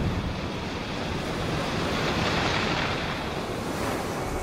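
Waves break on the rocks at Punta del Este, a continuous loud roar of surf mixed with wind buffeting the microphone, swelling slightly midway.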